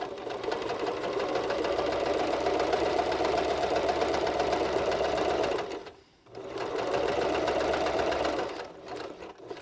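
A sewing machine stitches a double seam on a washable fabric face mask, a loud, close, steady rapid whir that runs for several seconds, stops briefly, then starts again.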